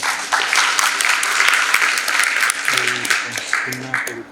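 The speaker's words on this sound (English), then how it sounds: "So one big round of applause to all of them." Audience applause for the crew and student volunteers at a TiE university pitch event in Mysuru, sustained clapping with voices talking over it toward the end.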